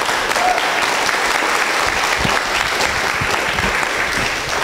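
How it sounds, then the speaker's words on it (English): Sustained audience applause for a dancer at a live performance event, a dense, steady wash of clapping from a large crowd that stays loud and even throughout, with no talk over it. "Give him a round of applause."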